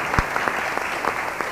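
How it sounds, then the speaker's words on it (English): Brief applause from a lecture audience at a Nelson Mandela Annual Lecture dialogue event, a short burst of clapping with a few sharp individual claps standing out. "A round of applause for him"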